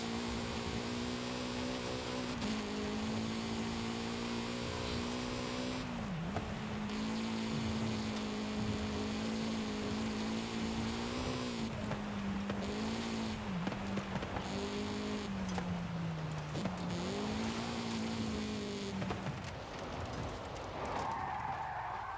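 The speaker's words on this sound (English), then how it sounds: "Given half a chance, this bloody car will do anything." A car is driven on tarmac with a steady, close engine drone that rises and dips several times through gear changes, with no talk over it.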